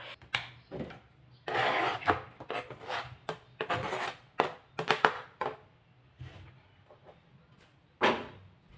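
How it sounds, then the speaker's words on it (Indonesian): Sliced spring onions drop into a bowl of seasoned flour with soft scraping, rubbing and light clinks, in irregular close bursts against a quiet kitchen. "Lanjut kita masukkan ke dalam tepung yang sebelumnya udah kita campurkan dengan bumbu."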